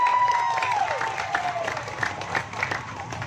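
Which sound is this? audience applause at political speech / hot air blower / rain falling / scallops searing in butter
audience applause at political speech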